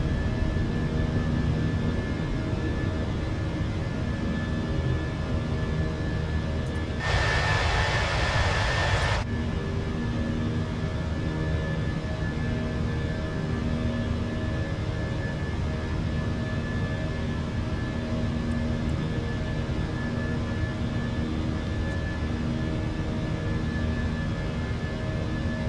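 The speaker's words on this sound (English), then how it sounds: "Listen to those engines roaring." Jet engines of a Fenix A319 airliner in a flight simulator drone loudly and steadily during a climb, a continuous broadband roar with a brief burst of brighter noise partway through.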